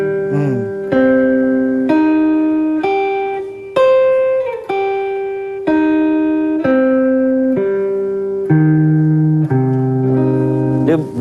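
Clean guitar sounds a minor arpeggio, with single notes and chord tones struck one after another at a slow, even pace, each ringing out and decaying. Close and clear, with no talk over it.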